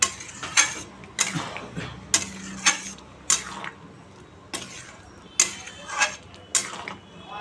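Kabuli chickpeas being stirred in a pan, a spoon scraping and knocking against metal in about a dozen regular clinks and scrapes, close and fairly loud over a faint background hum.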